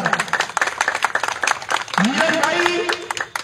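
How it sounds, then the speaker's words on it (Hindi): A crowd welcomes a politician at a Congress party joining event in NIT Faridabad with brisk, scattered clapping close by, while someone speaks loudly over the applause. "आफ्ताब भाई जोरदार तालियों से स्वागत किया जा रहा है"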